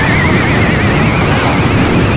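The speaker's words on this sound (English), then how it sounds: "Tornado." A loud, steady whooshing rush with a wavering whistle-like tone: the Tornado spell effect from the Clash Royale mobile game, constant and unbroken for about two seconds with no voices.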